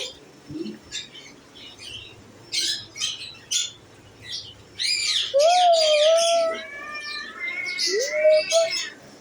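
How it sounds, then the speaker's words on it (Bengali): Parrots chirping and squawking nearby in short bursts, then longer whistled and rising calls, clear against a quiet background. "এটা টিয়া পাখি"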